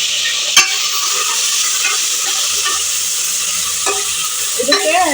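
Green chillies and curry leaves sizzle loudly in a pan, a dense close hiss with a few sharp clinks of the stirring spoon.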